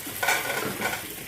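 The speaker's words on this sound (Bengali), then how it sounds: "ভাজা হচ্ছে" Prawns fry in oil in a pan for a Bengali prawn malaikari, a steady close sizzle with stirring scrapes and a couple of louder swells as the pieces are moved around.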